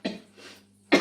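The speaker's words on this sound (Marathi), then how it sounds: "थोडं खोकलं पण आहे." A single cough near the start and another sharp cough at the end, close and fairly loud, with a quieter breathy stretch in between.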